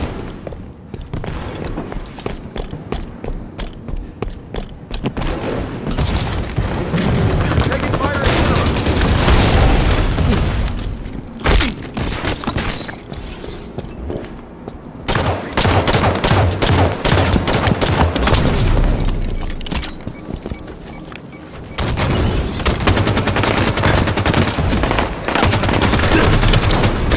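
Rapid bursts of automatic gunfire and booming shots from Halo 5 ranked Slayer play, loud and dense in clustered volleys with short pauses between exchanges.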